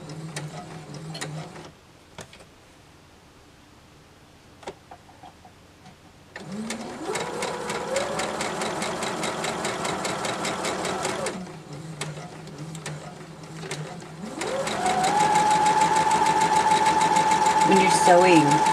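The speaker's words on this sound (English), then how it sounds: "we're sewing again down the 1/4 inch seam" A sewing machine stitches a quarter-inch quilt seam in bursts of rapid, even needle chatter, stopping and restarting several times with quieter pauses between, and a final run that is louder with a rising motor whine.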